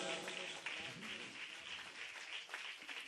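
Congregation clapping at a Catholic preaching gathering, a steady wash of many hands heard faint and somewhat distant, continuous throughout.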